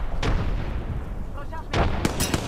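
A frag grenade going off in Apex Legends: sharp broadband bursts land near 0.3 s, 1.8 s and again around 2.1 to 2.4 s over a steady rumbling battlefield bed, loud and close with no speech.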